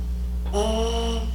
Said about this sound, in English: push air through so that your lips vibrate, and ultimately it sounds like this without the euphonium